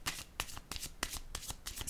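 Tarot cards being shuffled and handled, several quick papery riffles and slaps in an uneven rhythm, close and fairly soft, with no talking.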